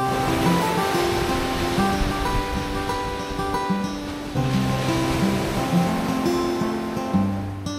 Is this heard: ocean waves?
yes